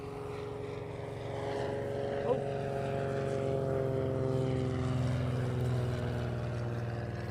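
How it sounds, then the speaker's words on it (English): A Blackburn Buccaneer jet taxiing on a runway at Cotswold Airport gives a loud, sustained engine drone with a steady tonal whine, holding level throughout with a small bump partway through. "the Buccaneer is now taxiing back down towards us"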